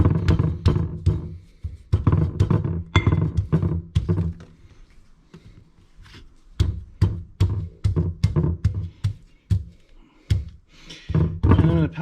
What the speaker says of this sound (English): I'm going to pound them just like I pounded the rest, and I'm going to kind of mash them up